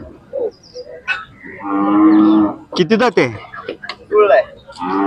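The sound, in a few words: Khillar bulls mooing at cattle market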